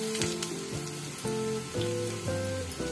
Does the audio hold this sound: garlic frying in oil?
yes